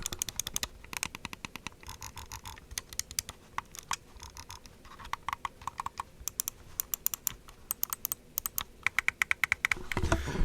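Crisp Razer gaming mouse button clicks close to the mic, a steady string of single and double taps over a faint background hiss, with no voices.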